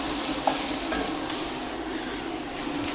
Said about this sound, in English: So we're browning off the meat.